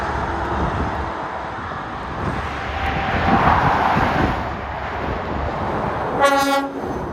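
A passing train rumbles steadily near High Legh, Cheshire, then a loud train horn blares once near the end.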